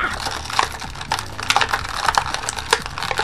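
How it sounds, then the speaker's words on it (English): Plastic parts of a Revell Iron Man Mk42 model kit are popped out of their sprue, giving a quick run of close, sharp clicks and snaps in an irregular rhythm, with no talking. "I'm going to pop all of these out now."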